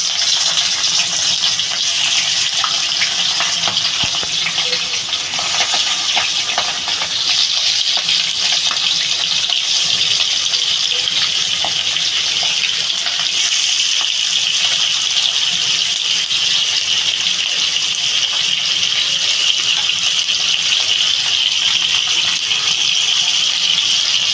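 Hilsa fish pieces laid into hot oil, producing a steady, loud, broadband hiss that runs unbroken and keeps a constant level throughout, with no talking over it.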